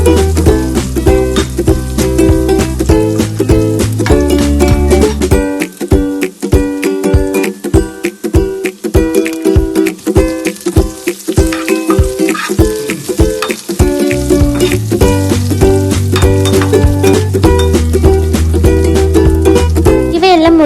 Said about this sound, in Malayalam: വെളിച്ചെണ്ണ ചൂടായി വരുമ്പോഴേക്കും അതിലേക്ക് നമ്മൾ ചതച്ച് വെച്ചിരിക്കുന്ന വെളുത്തുള്ളി, വറ്റൽമുളക്, ഇഞ്ചി, കുരുമുളക് എന്നിവ ചേർത്ത് നന്നായി ഇളക്കി കൊടുക്കുക